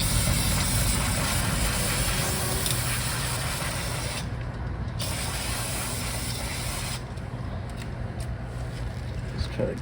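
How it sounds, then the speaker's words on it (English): Aerosol brake cleaner hissing steadily onto a dirty oil pan under a 2017 Hyundai Elantra SE during an oil service, a long close spray with a brief break partway through. "I'm just going to use some brake clean on the oil pan because it is dirty from previous."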